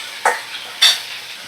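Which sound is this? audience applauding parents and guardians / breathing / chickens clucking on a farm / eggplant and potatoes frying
eggplant and potatoes frying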